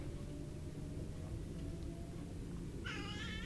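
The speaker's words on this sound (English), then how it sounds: "we know you're meowing" Cat meowing near a train simulator setup, with a single short meow arriving near the end over a steady low background hum of the game's train; no talking in the room.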